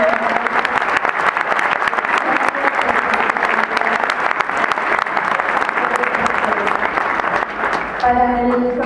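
Audience applause at the opening ceremony of the Guanajuato International Film Festival, a dense, steady wash of clapping from a large crowd filling the whole stretch, with faint voices mixed in and a brief musical tone near the end.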